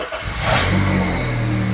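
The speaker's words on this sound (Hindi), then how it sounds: "अब मैं गाड़ी स्टार्ट कर रहा हूँ।" A Honda car with a misfire fault cranks and catches, its engine quickly rising into a loud, steady, close idle hum that holds through the rest of the moment.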